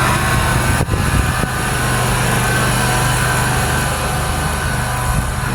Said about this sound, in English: I got a guy over here who's just like mowing the lawn and stuff like that, so it's gonna create a little bit of noise